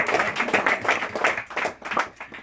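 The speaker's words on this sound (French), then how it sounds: "On va l'applaudir pareil." A small group claps, a brief patter of hand claps with uneven rhythm, close by, lasting a couple of seconds.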